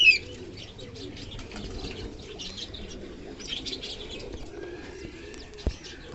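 Fancy pigeons give soft, low cooing with a few chirps and a brief flutter of wings, close by and fairly quiet, with no talking.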